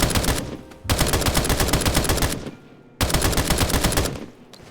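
Baby AK firing in the Escape from Duckov video game: two loud sustained bursts of rapid automatic fire, each lasting about two seconds, separated by a short gap.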